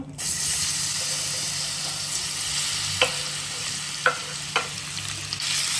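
Cut banana pieces fry in a pan with a constant loud sizzle and hiss, broken by a few short scraping stirs toward the end, close by and without speech.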